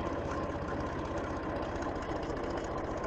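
A Massey Ferguson tractor engine runs at a steady, low idle, a close, continuous diesel rumble with a fast pulsing beat and no voices.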